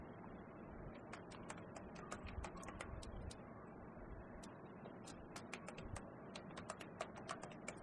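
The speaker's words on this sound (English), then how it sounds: "I will just click here and type" Computer keyboard keys click in a quick, irregular run of light taps over a low background hum, close but quiet, with no talking.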